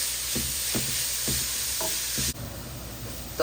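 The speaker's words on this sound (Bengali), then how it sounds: "এই যে গাজরগুলোকে আমি ভালো করে ভেজে নিচ্ছি, বেশি করে ঘি দিচ্ছি।" Boiled carrots fry in a generous amount of ghee with a steady close sizzle, broken by about five rhythmic stirring scrapes before the sound drops slightly and continues more quietly.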